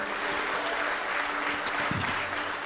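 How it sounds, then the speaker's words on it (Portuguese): A church congregation applauds continuously, a dense wash of many hands clapping throughout, with a faint background voice. "Aplaude o Senhor se você deseja."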